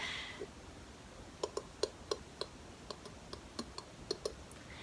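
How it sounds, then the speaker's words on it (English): Sharp tongue clicks pop out one at a time in an uneven series, about a dozen over a few seconds, close and fairly crisp against a quiet background. "I do a lot of tongue clicking sounds."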